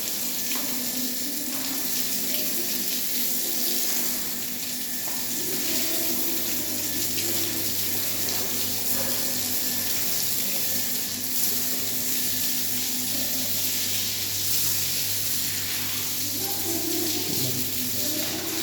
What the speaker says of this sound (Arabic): لازم ترش الشغل كويس بالمية.